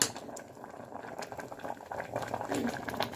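Liquid bubbling and simmering steadily in a pot while making white peas sundal, a continuous crackling boil with small pops, close by and fairly quiet.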